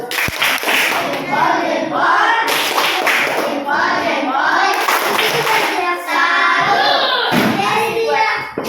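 A rhythmic patterned salute clap from a group, sharp hand claps in bursts and repeated sequences, loud and close, with voices chanting along between them.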